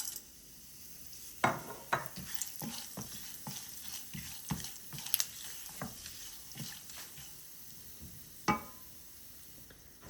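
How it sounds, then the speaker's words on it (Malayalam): Whole spices dropped into hot oil in a pan for aloo keema with minced beef, a low steady sizzle with several sharp clinks and scrapes of a spoon against the pan, faint and close, no voices. "ഓയിൽ ചൂടായിട്ട് നമുക്കിതിലേക്ക് സ്പൈസസ് ചേർത്ത് കൊടുക്കാം"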